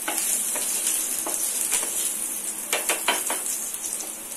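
Star anise and garlic sauté in hot oil in a pan, giving a steady bright sizzle with several scraping stir strokes near the end; no talking.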